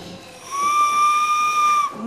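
A small handmade clay whistle gives one clear, steady high tone lasting just over a second, blown close by over a hissy room background.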